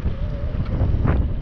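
Strong wind buffets the microphone on a desolate hilltop while riding a bike, a constant low roaring rumble with gusty swells and no voices.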